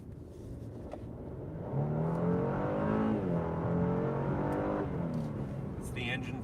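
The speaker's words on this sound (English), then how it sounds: "It's the engine talking to me." A 2021 Genesis G80 3.5T Prestige AWD engine in sport mode, its steady hum rising into a stronger, swelling drone as the car accelerates, heard from inside the cabin with people talking over it.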